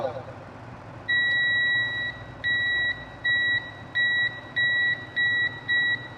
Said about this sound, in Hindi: दोनों साइड क्या बज रहा है, बीप बज रहा है